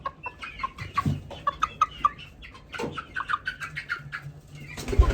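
Several chickens and roosters clucking and squawking close by in quick, uneven bursts, with a louder flurry near the end.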